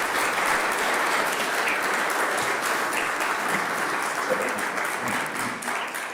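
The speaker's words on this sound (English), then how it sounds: "Let's give them a round of applause." An audience at a ballot-issue forum on a sales tax for Denver Health claps for the participants, a dense, steady wash of many hands that stays loud for several seconds.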